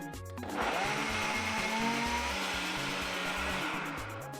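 A blender loudly whirs through garlic, ginger and pepper with a little water. The steady grinding roar starts after a brief moment and runs to the end.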